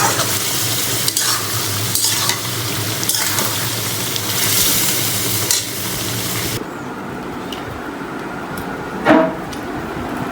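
A vegetable dish being stir-fried bhuna-style in a pan, with a steady sizzle and scraping stirs that run continuously, then drop to a quieter simmer with a single clink of the utensil near the end.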